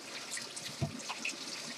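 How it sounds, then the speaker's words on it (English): Tap water running over potatoes held in a colander in a kitchen sink, a steady soft trickle and splash with one brief louder knock partway through. "you can probably hear the water running"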